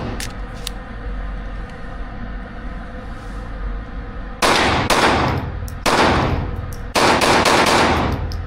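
A gun fires in three loud, sharp bursts after a few seconds of low rumbling background, each blast sudden and close, with no talk over it.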